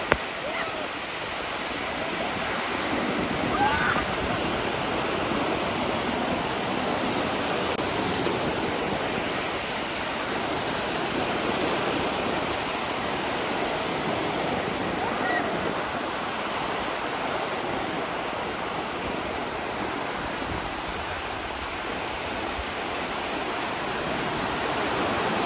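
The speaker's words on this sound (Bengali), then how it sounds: "তারপর আমরা একটু বিচ সাইডে এনজয় করছিলাম সমুদ্রের ঢেউগুলো" Sea waves washing onto the beach at Mandarmani, a steady broadband surf wash that holds at an even level throughout, with no speech.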